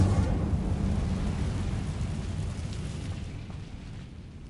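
Hogwarts Legacy's Incendio fire spell roars as a loud, broad rumbling whoosh that is strongest at the start and slowly fades over several seconds, with no voices over it.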